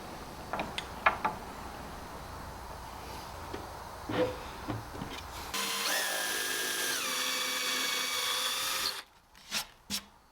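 Power sander scuffing green paint on the back of an antique wooden dresser, a steady close whine running for about three seconds between quieter knocks and handling clatter.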